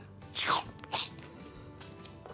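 Paper tape pulled and pressed around a small paper loop for a sparrow puppet, two quick loud ripping strips followed by faint rustling.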